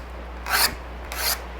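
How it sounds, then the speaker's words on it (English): A file draws across the edge of a thick steel card scraper in two separate push strokes, each a close, crisp rasping scrape with a short pause between them. "So we're going to basically draw a file, and I'm going to be sure to only push it across."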